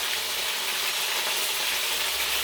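Peppers sizzling in a frying pan of hot oil, a loud, steady crackling hiss that fills the whole short stretch.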